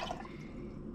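Water poured by hand from a couple of glasses into a household machine at home, a steady close trickling and splashing that runs without a break through the whole second.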